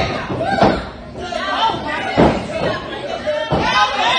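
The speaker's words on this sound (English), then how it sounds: "And a power bomb, 6 feet, 8 inches in the air" A wrestler is power-bombed onto the mat during a pro wrestling match, with heavy thuds at intervals amid loud crowd chatter and continuous commentary.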